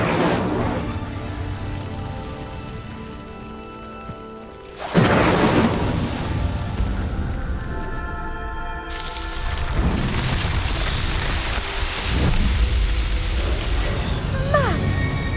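Incendio fire spell setting a pyre ablaze in Hogwarts Legacy: a loud whooshing burst of flame after a quieter stretch, followed by sustained crackling roar with further surging bursts over game music.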